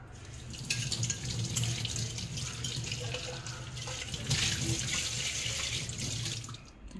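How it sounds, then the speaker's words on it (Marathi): Running tap water pours steadily over a silver anklet as it is washed in a sink, a continuous close splashing stream with no talking. "आता ह्याला लगेच साबण लावून धुवून घ्यायचं आहे"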